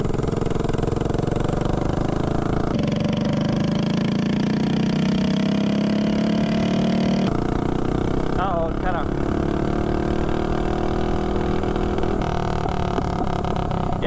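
Mini bike engine running on VP Racing nitro fuel, a steady loud buzzing drone that rises and falls with throttle through the whole stretch, with brief voices over it.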